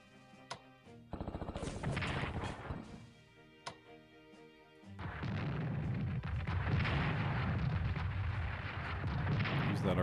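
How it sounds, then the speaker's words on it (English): Artillery barrages in the WWII strategy game Strategic Command: a few sharp separate booms early on, then a dense, sustained rumble of overlapping blasts that stays loud to the end, with no talking. "use that artillery here to weaken these guys"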